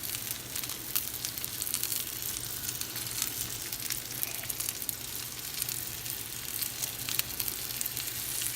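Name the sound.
ribeye steak sizzling in pan after flipping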